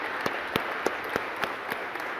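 A conference audience gives faint, scattered applause for a software tool developer: a handful of distinct claps at roughly regular intervals over a soft background hiss.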